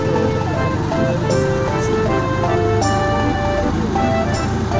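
Riding in a motor tricycle, a loud, steady engine drone with road noise and passing traffic, with faint tones over the rumble.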